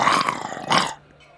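A voice imitates a dog, giving two gruff, growling barks close to the microphone. A short quiet follows.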